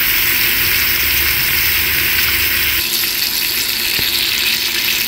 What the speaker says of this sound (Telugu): చూడండి ఎంత చక్కగా ఫ్రై అవుతున్నాయో